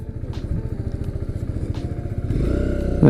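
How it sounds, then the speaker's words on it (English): A Kawasaki Z125 motorcycle rides a slow cone drill at a training school, its small engine putting out a steady, pulsing putter that swells louder near the end. "These are Kawasaki Z125s, pretty neat bikes."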